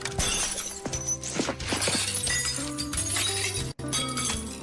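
Glass shattering as a face is shoved through a pane in the Metalocalypse animated series, a loud crash and tinkling shards layered over heavy metal music.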